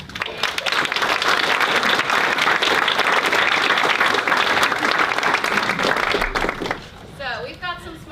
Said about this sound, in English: let's just give one more round of applause for all of our teams.